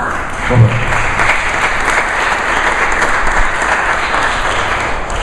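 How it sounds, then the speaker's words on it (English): Crowd applause at an outdoor Mexican flag raising ceremony in Rhode Island, a loud, dense and steady roar of clapping from many people that continues without pause. "Give him a round of applause."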